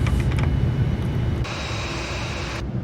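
A Fly2 Boeing 787-9 slowing for landing with gear down and full flaps in the FSX flight simulator, a steady loud jet engine and airflow roar whose tone shifts partway through.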